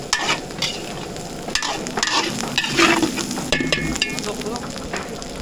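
Garlic and onion sizzle loudly in a hot pan, crackling and popping steadily while a utensil stirs and scrapes through them close by.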